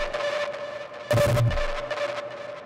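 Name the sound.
synthesized kick drum with sine wave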